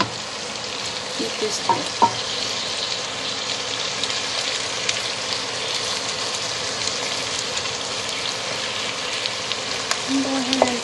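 Sweet and sour pork sauce cooking down in a pan, a steady close sizzle and bubbling throughout with occasional utensil clinks, as a voice briefly speaks over it.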